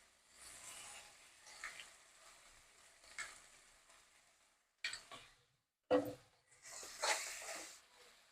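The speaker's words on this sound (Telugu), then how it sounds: "ఇట్లా చక్కగా వేగాక దీని మీద మనం రెడీగా ఉంచుకున్న చిక్కటి చింతపండు ఉంది కదా, దీనికి సరిపడా చింతపండు రసం వేయండి" Tamarind juice poured into frying jackfruit curry sizzles in a pan, a soft hiss rising and fading with stirring scrapes and a couple of sharp clanks, then a renewed burst of sizzle.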